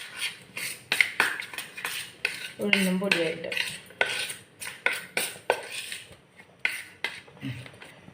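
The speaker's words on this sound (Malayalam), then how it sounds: "എല്ലാം കൂടി നമുക്കൊന്ന് നന്നായിട്ട് മിക്സ് ചെയ്ത് കൊടുക്കാം" Rice flour, urad dal powder and sesame seeds being mixed in a bowl for murukku dough, heard as repeated clinking and scraping strokes against the bowl, fairly close, with brief speech partway through.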